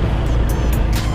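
Steady road traffic near the PTX compound in Makati, a continuous low rumble of cars and engines close by with faint higher whooshes of passing vehicles, no talking.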